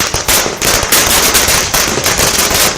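Fireworks and firecrackers at a BJP election victory celebration, a loud, continuous barrage of rapid cracks and bangs close by.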